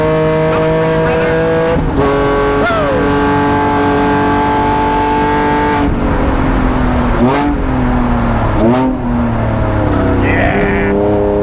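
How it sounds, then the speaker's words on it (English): A straight-piped, student-built Lykan Hypersport hypercar races on a track, its engine droning loud and close with rising and falling revs and sharp shifts, while someone talks over it. "In this student-built hypercar."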